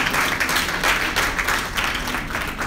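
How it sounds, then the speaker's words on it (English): Audience clapping at a live talk, a dense steady wash of many hands that stays loud and even for the whole stretch, with no voices breaking through. "Clap for me now."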